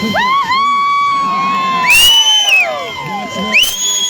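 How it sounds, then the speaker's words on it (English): Spectators at a kayak rodeo cheer, whoop and shout loudly, excited voices rising and overlapping with sharp screams and swelling bursts throughout. "getting probably the biggest cheers in the crowd"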